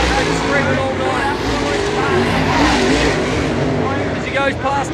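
Late model race cars roar around the Bunbury Speedway dirt oval during a feature race, a steady, loud wall of engine noise with a track announcer talking over it throughout.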